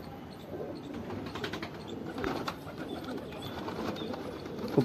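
Soft, low cooing of freshly bathed pigeons sunning on a rooftop murmurs continuously in the background, with a faint outdoor ambience and occasional light chirps.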